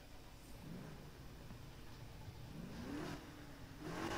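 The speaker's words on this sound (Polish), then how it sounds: "Jak brzmi w ogóle start silnika." 1969 Ford Mustang Boss 302 engine in the video game Need for Speed Heat, starting and revving in several rising pulls that climb and fall back, fairly quiet and heard alone.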